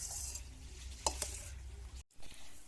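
Hands mixing cooked rice at an outdoor picnic meal served with meat, a continuous soft wet squelching and patting with a couple of sharper taps, then a brief silence before the mixing resumes.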